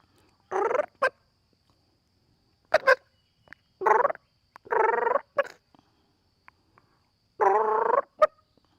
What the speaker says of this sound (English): That gobbler's got a big beard.